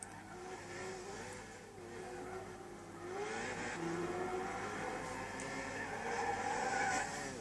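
Race car engine in Gran Turismo 6 at Bathurst, lapping on badly worn tyres that understeer, a steady droning whine rising in pitch, with faint tyre scrub throughout.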